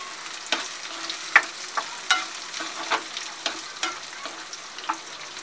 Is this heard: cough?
no